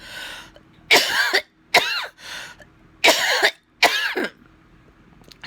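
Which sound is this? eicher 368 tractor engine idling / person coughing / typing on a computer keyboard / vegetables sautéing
person coughing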